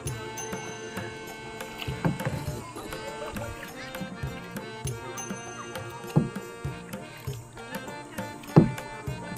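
Paddles dipping and knocking on a kayak on a Konkan backwater, irregular close splashes and hollow clunks at an uneven rhythm, with faint voices in the background.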